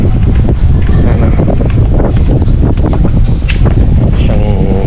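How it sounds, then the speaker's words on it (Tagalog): Strong wind buffets the microphone at a coastal overlook in Bulalacao, Oriental Mindoro, a loud, constant roar with gusty rumble throughout. "Lakas ng hangin."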